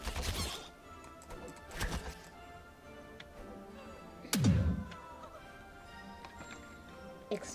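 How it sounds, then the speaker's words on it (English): An explosion goes off in a video game as a single deep, booming burst midway through, set among scattered thuds, clicks and knocks against a quiet background. "Explosion."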